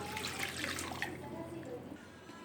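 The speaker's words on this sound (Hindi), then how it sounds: "1 लीटर के करीब जो है मैंने इसके अंदर पानी डाल दिया।" Water poured into a pot of chicken, salt, stock cubes and spices for shami kabab, a steady close splashing and trickling that runs through the whole short stretch without pause.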